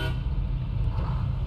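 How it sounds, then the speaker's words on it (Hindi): A truck horn sounds in the SnowRunner off-road driving game. It gives a brief toot at the start over a low, steady engine rumble. "ओए इसका हॉर्न तो ट्राई नहीं किया"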